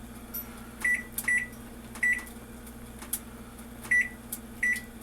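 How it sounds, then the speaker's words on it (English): A kitchen timer is set while cooking chicken and dumplings, giving off six short, sharp electronic beeps at irregular intervals over a faint, steady kitchen hum, with no talking. "we're going to set our kitchen timer"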